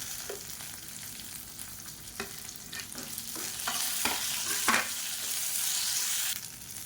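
Small shallots and curry leaves fry in a pan for curry leaf chutney, a soft steady sizzle punctuated by repeated scraping stirs, close and growing slightly louder toward the end, with no speech.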